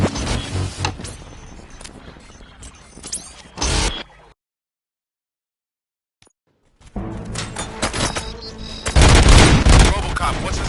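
Gunfire in a video game: dense, crackling bursts of rapid shots and booms, loud and chaotic, cutting out to near silence for a few seconds before the heavy firing resumes even louder.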